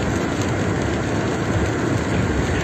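Rain or hail drums steadily on a moving car on the road from Erbaa toward Gümüşalan village, a dense, even patter over low road rumble with no pauses.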